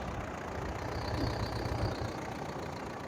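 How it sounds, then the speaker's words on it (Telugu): A 2016 Mahindra Bolero engine idles steadily at close range, a low, even rumble with a slight rise in the middle, and no voices over it. "ఇంజన్ కూడా చాలా కనకనలాడుతుందండి"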